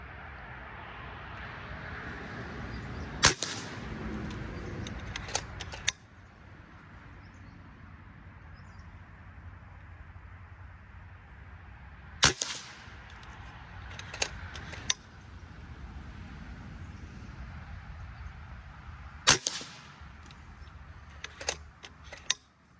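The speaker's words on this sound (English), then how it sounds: "We're shooting the AEA Diablo 45 grain pellets." A Karma EQ .30 PCP air rifle set at 2100 PSI fires AEA Diablo 45 grain pellets: three sharp, fairly quiet shots spaced several seconds apart, each with a short clatter after it, over a steady outdoor hiss.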